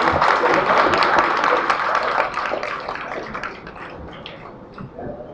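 An award ceremony audience at a Bukovel ski event, 2012, claps lightly. A steady patter of many hands fades gradually over a few seconds, with no voices over it.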